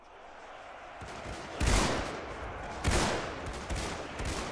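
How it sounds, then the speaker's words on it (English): Army units firing on a zombie horde in the modded battle simulator UEBS 2, a dense crackling fusillade of massed gunfire that swells into several louder volleys at regular intervals, sustained and fairly close. "they're shooting up, and their bullets are still landing into the zombie horde over here"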